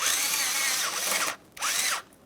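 A power tool works loose a 10mm clamp on the air inlet of a 2007-2013 Acura MDX 3.7L V6, giving a loud, close whir that runs steadily, then drops out and makes one short final burst.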